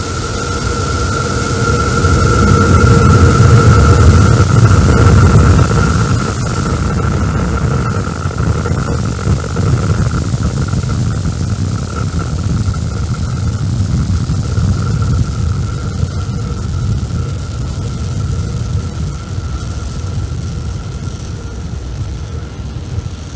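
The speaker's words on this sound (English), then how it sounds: "Starship test vehicle number 11 ascending over Starbase in South Texas." SpaceX Starship SN11 test vehicle lifting off over Starbase in South Texas, a continuous loud broadband rocket roar with a low rumble, strongest early and holding steady throughout.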